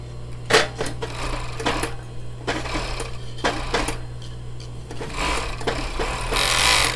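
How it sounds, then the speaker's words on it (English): A sewing machine stitches fabric for a medical face mask in short bursts of rapid stitching separated by brief pauses, close and fairly loud over a steady low hum. "now you go to the sewing machine"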